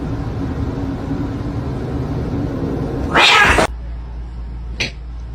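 A kitten gives a loud, harsh yowling meow over a steady background hum, followed after a pause by a shorter, fainter cry.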